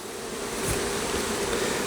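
A steady, close hum of honey bees swarming over hive frames while drone frames are cut out, continuous throughout with a soft bump near the middle.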